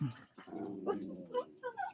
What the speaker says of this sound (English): How bad is the barking on YouTube? Is it really loud?